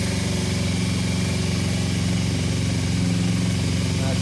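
A motorcycle engine idles steadily with its revs slightly raised, a close, constant mid-pitched throb holding even for a few seconds with no talking over it.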